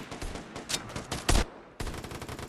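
Rapid gunfire in the online survival shooter Vigor, a string of quick, punchy shots in uneven bursts with one especially heavy blast midway, then a fresh, steady volley, fairly close with no talking.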